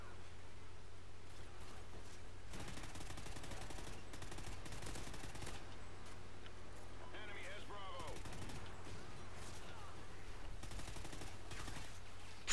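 Rapid bursts of automatic gunfire from Call of Duty Ghosts multiplayer, several volleys firing in steady runs over constant game background noise.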